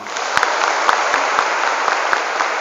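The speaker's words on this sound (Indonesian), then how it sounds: "Tepuk tangan untuk kita semuanya." Applause from a seminar audience of santriwati at Gontor Putri Kampus 5, a dense steady wash of many hands clapping with a few sharper claps standing out, alone and fairly loud throughout.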